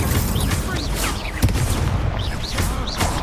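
A fire spell cast in the Hogwarts Legacy video game bursts with a loud impact near the middle, surrounded by busy battle effects and whooshing magic sounds throughout.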